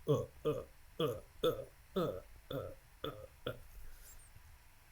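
Repeated short, low burp-like bursts in a rhythmic series, close and fairly loud, heard during a Minecraft let's play session.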